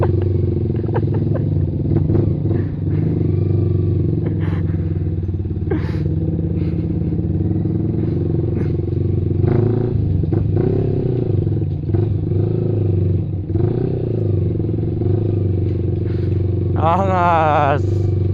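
A Yamaha R15 sports motorcycle engine runs loud and close at a steady drone with a few rev rises, and voices talk over it.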